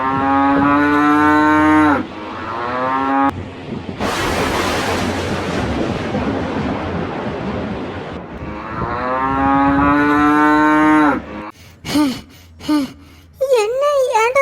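Cartoon cattle moo in long, drawn-out calls, with a burst of noisy rushing in the middle and more lowing after, then short voiced sounds at the end.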